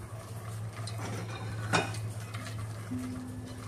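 Sugar is stirred in a pot for a sesame and bean halva, with soft scraping and a few light metallic clinks of a utensil against the pan over a low steady hum, quiet and close with no voices.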